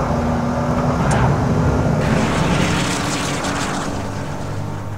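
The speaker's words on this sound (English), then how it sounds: "So that's a lap in the Juke-R." A Nissan Juke-R lapping a track gives a steady engine drone from inside the car, with a brief sharp peak near the start and a swell of roar midway that fades toward the end. No voices are heard.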